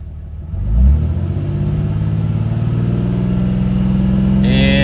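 A pickup truck engine revs up to about 2,500 RPM and the throttle is then released, yet the idle stays high: a loud, close steady drone with no talking.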